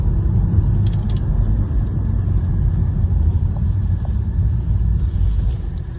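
A 2016 Volvo S60 2.0-litre petrol engine rumbles steadily and loudly from inside the car as it accelerates, with road noise and no clear rise in pitch.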